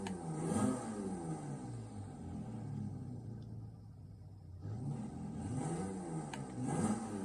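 Virtual truck engine revving with turbo in Forza Horizon, Toyota Tacoma or Mercedes X-Class, two rising-and-falling rev sweeps separated by a quieter idle rumble, moderately loud and alone.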